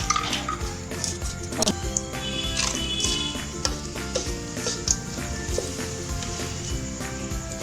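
Whole cinnamon, cloves, cardamom and black peppercorns sizzle in hot ghee for white chicken korma, a steady close crackle and fry with faint ticking pops and stirring throughout.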